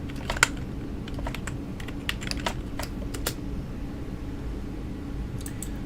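Typing on a computer keyboard: quick, light key clicks in irregular bursts over a steady low hum, close and fairly soft.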